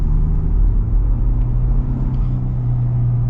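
A 2024 Ford F-150 Tremor with a twin-turbo V6 accelerating, a loud steady engine rumble and drone heard from inside the cab, with no talking.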